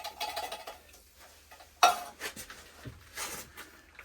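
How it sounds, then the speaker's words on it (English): A spoon stirs canned vegetable soup in a pot on a woodstove at a campsite, with scattered clinks and scrapes and one sharp knock against the metal. "And we'll give that a little stir."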